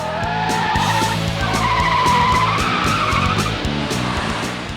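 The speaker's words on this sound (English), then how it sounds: "Pursuit driving is one of the definite hands-on part of the academy." Police academy patrol car in pursuit driving training, tyres squealing in a long, loud skid with the engine roaring close by throughout.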